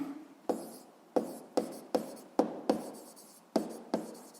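Pen strokes on paper while writing out a physics exercise, about nine short scratchy strokes in an uneven rhythm, close and quiet, with no speech over them.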